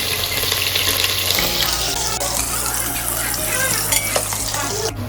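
Onions fry in a pan with a steady, close hiss and sizzle, joined by scraping and stirring clatter and a few sharper knocks, with no talk over it.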